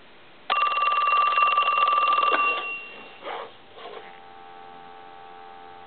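A Telstar telephone's bell rings loudly and steadily for about two seconds with a constant electrical hum underneath, then trails off into softer clicks and a faint steady tone.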